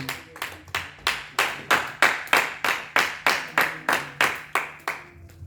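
A church congregation claps in unison to acclaim Jesus, about fifteen sharp, evenly spaced claps in a steady rhythm, filling the room with no talk.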